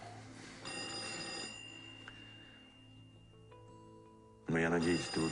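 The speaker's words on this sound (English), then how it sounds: "Pick up the phone." A telephone rings with a bright, sustained electronic trill, pausing and resuming, before a loud burst of voices cuts in at the end.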